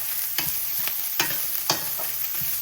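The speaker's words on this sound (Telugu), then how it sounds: "బాగా మిక్స్ చేసుకోవాలి. రైస్ కూడా బాగా ఫ్రై అవ్వాలి." Egg fried rice stir-fries in a hot pan, a continuous sizzle punctuated by several sharp scrapes of the spatula tossing the grains, close up with no talking.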